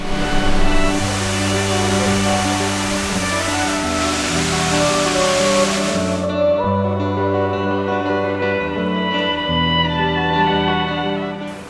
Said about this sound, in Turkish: Susuz alan 20 metre yükseklikten sularını Aksu Deresi'ne bırakan sesiyle, verdiği tazelikle kendini hayran bırakan bir şelale